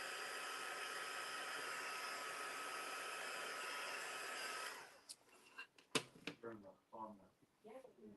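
A hair dryer blows steadily and loudly on mixed media artwork for several seconds, then switches off, and a person talks afterward.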